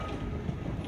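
A train rolls along rails in the video game Voidtrain, a steady low rumbling drone with faint rhythmic clatter, moderately quiet and continuous with no voices.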